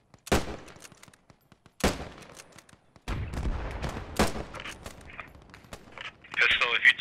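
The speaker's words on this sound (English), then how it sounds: "I'm getting shelled like to all absolute shit" Explosions and bursts of gunfire in a Battle of Arnhem video game, several sharp loud blasts followed by sustained rumbling fire, with voices talking over the action.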